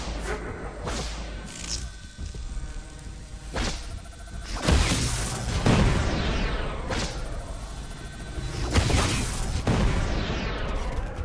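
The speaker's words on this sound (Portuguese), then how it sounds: "eles estão me dando muito tiro, velho" Gunfire in the game Predator: Hunting Grounds, loud bursts of shots and sharp cracks repeating across the stretch, some close and heavy with booming tails, without any talk over them.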